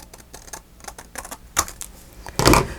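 Scissors or a craft blade cutting through paper from a paper pad along a line, a series of close, crisp snipping and rasping strokes with a louder burst near the end.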